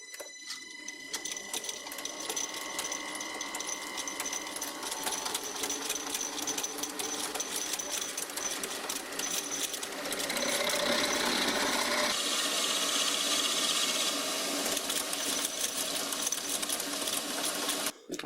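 A drill fitted with a spade bit bores through scrap metal, a sustained loud grinding, rasping whine with a rough scraping texture that grows harsher and denser partway through, running steadily without talk.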